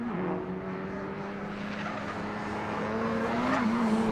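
A race car laps the Road Atlanta circuit during a time attack session, a sustained engine drone steady in pitch that rises slightly near the end, moderately loud and without talk.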